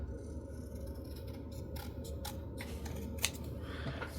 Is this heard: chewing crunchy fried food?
no